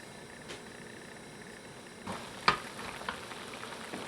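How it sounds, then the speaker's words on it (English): A pot of chicken broth simmers at a steady low bubble, with a few soft clinks and pops rising above the gentle boiling hiss. "So our broth is boiling now."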